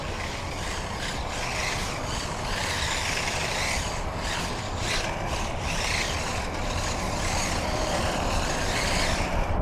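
An LDRC 2801 Pro 1/28-scale 4x4 RC drift car runs on rough concrete with its gyro switched off, giving a steady, loud, gritty whir of motor and wheels scrubbing the surface without a break.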